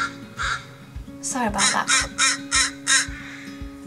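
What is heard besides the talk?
crows cawing outside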